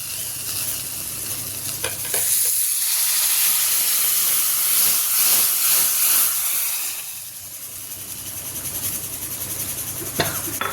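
Spices sizzle and crackle loudly in hot oil as a tempering for jackfruit curry, a steady frying hiss with occasional stirring clatter and no talking.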